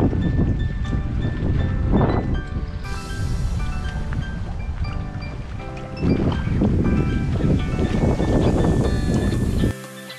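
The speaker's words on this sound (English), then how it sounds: "It's a super windy day" Steady outdoor wind by a lake at Sly Park buffets the microphone in broad, rumbling gusts throughout, with a rushing low roar that rises and falls.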